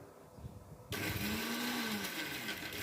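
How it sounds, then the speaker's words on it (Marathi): A kitchen mixer grinder starts abruptly after a quiet second and whirs loudly and steadily, grinding a spice masala with water for a jackfruit curry. "आपल्याला मसाला कसा बारीक असा वाटून घ्यायचा आहे मिक्सरवर"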